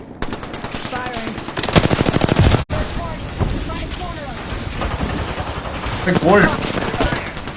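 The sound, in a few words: gunfire in the video game Apex Legends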